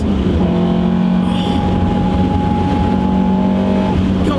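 An Alfaholics Alfa Romeo GTA R 290 race car engine roars loudly and steadily, holding a high, sustained revving pitch close by for several seconds with no voices.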